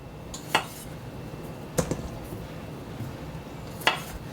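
A knife cutting baby potatoes in half on a board, three separate sharp clicking cuts spaced apart, close and distinct over quiet kitchen background.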